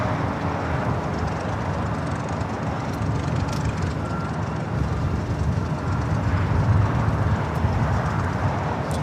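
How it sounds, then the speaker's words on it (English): A propeller airplane flies over LAX, heard as a steady broad engine drone with a soft hum, fairly distant and unbroken, with no talking. "It's like a prop plane."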